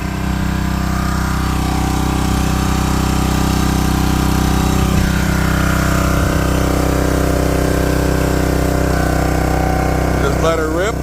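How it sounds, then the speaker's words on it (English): Small engine on a Red Rock 27-ton log splitter runs at a steady, loud idle throughout, a constant mechanical drone with brief clatter near the end. "27-ton log splitter here."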